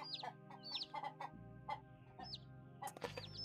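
Chickens in a farming video game cluck and chatter in short repeated bursts, several birds close by over a steady low background hum, with no talk.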